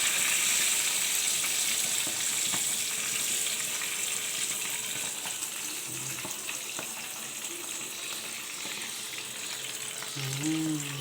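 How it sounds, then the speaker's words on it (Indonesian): Dried mullet fish frying in oil gives a steady loud sizzle and crackle that fades slightly, with a few soft clinks and stirring noises near the end. "goreng ikan kering belanak"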